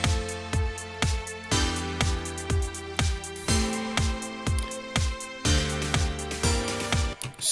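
An upbeat JRPG village theme with a simple lead melody over rhythmic chord stabs, a bright bouncy groove repeating in even bars, clear and full with no voices.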